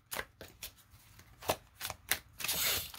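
Tarot cards shuffled by hand during a reading, a run of quick riffling snaps and papery flutters in uneven bursts, close up and fairly crisp, ending in a longer continuous riffle with no talking.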